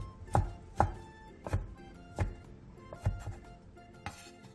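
A knife slices two fish cake sheets into thin strips on a cutting board: about seven distinct, unevenly spaced chops ring out close and clear, with quiet gaps between them and no talking.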